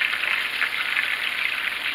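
Pork chops fry in a hot pan for smothered pork chops, giving a steady, dense sizzle and crackle that holds at an even level throughout, with no talking.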